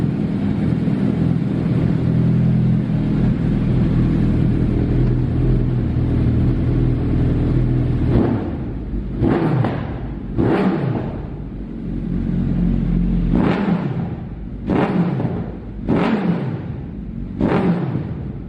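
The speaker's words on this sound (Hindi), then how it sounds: "दोनों बाइक्स यहाँ पे खड़ी हैं और दोनों का रेव नोट एक बार तो बनता है" A Suzuki Hayabusa superbike idles with a steady rumble, then is revved hard in a series of about six sharp, loud blips that rise and fall close by.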